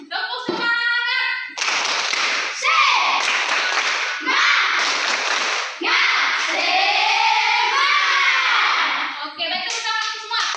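A school class performs a rhythmic clapping chant, with children's voices calling out in unison between bursts of loud, patterned group clapping that repeat several times, all close and energetic.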